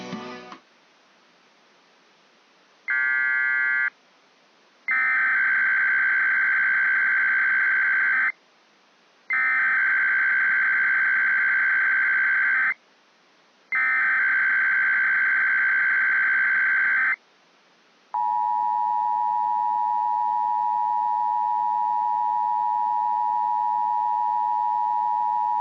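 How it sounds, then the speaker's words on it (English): Emergency Alert System monthly test tones: a loud sequence of harsh digital header data bursts in three long blocks, followed by a single steady alert tone held to the end, with no talking. "This is a monthly test of the emergency alert system originating from the Global"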